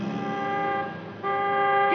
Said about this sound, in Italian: Lei aspetta un bambino e tu suoni il clacson